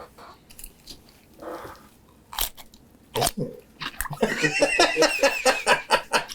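Biting into a fried wedge fry held close, with several sharp crunches followed by a burst of dense, noisy chewing and crunching up close, mixed with some quiet giggling.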